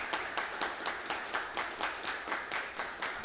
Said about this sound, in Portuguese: E peço uma salva de palmas para dona Nardina.